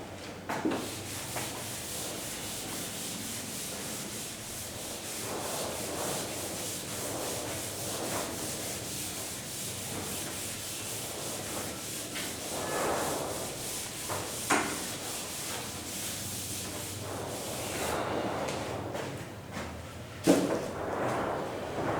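An eraser or cloth rubs over a classroom board in long, repeated swishing strokes, a steady abrasive scrubbing close by, with a sharp knock near the end.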